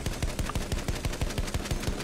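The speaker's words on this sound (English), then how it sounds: "Shooting me with LMG." Light machine gun fire in a Battlefield-style shooter on the Monte Grappa map, heard as a fast, steady burst of about fifteen evenly spaced shots in two seconds, close and punchy, with no talk.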